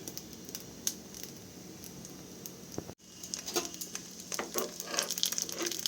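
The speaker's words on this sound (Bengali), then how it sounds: "এবার এই পিঠটা আমি ভাজছি" Patishapta pitha pancakes fry in a pan with a soft steady sizzle, a brief pause, then livelier crackling and spatter with light scraping sounds close by.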